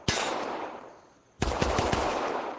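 Gunfire in the VR shooting game ACE VR, a sharp shot with a fading tail and then a close, loud burst of several rapid shots.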